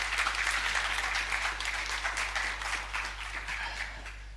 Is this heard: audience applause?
yes